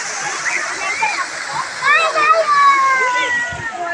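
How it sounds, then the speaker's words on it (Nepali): Water splashes and rushes steadily from a fountain, with children's voices and chatter rising over it. "यहाँ चाहिँ पानीको फोहरा बल्ल पानी छोडेको छ"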